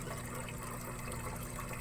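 Water runs continuously through improvised DIY NFT hydroponic pipes set up for growing lettuce, a steady trickling and gurgling flow at close range with no voices.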